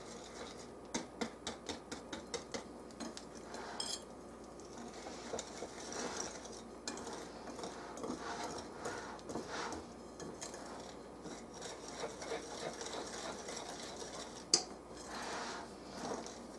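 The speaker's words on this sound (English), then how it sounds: "I'm mixing this with the whisk because the cocoa powder would be everywhere." A whisk beating chocolate cake batter of cocoa powder, milk, vegetable oil and vanilla in a bowl: quick rhythmic ticking taps at first, then a steady close scraping swish with an occasional sharper knock.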